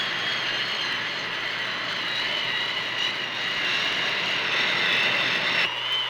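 A Navy jet on a carrier deck roars at full engine power during an arrested landing, a steady loud jet whine and rumble that holds without a break.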